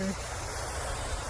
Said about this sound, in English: Just gonna water in my seeds that I put in.